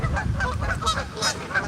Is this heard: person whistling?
no